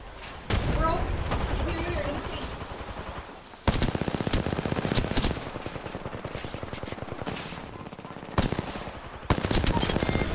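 Gunfire in Apex Legends: repeated bursts of rapid automatic shots with sharp onsets and brief gaps, loud and close, while a voice talks over parts of it.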